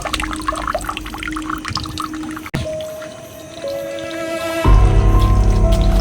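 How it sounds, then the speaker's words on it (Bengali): Water runs from a tap in a supposedly haunted place, a continuous splashing flow that shifts in pitch partway through and grows louder and fuller near the end. "আমি যতটুকু জানি এখনো চলেই যাচ্ছে, মানে কলটা চালু আছে।"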